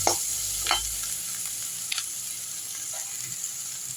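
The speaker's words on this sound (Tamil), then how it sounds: "வெங்காயம் நல்லா வதங்கிட்டோம்" Chopped onions sauté in a pan with mustard seeds and urad dal for a brinjal thokku, giving a steady soft sizzle with a few brief stirring scrapes and no talk.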